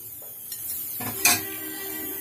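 Crunchy chana dal namkeen tossed with salt in a dish, giving a soft rattling clatter with one sharper clink partway through, close and fairly quiet.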